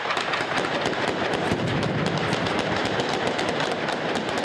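Dense, continuous rapid gunfire rattles without pause, loud and crackling like a sustained volley from many weapons.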